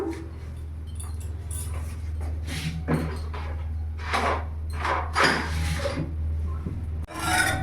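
Salt stirred into a small amount of water in a pot, a series of close scraping, rubbing strokes against the pot in an irregular rhythm over a low steady hum.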